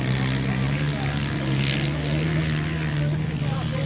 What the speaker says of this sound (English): Up and round in second place on their single cylinder speedway bike engine outfit